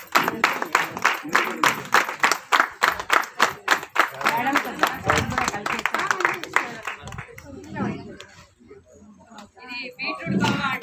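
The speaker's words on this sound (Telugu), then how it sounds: "అందరం మన చప్పట్లతో వాళ్ళని అభినందిద్దాము." An audience claps together to felicitate the host at a garden meet, a brief burst of scattered hand claps mixed with voices talking over and around it.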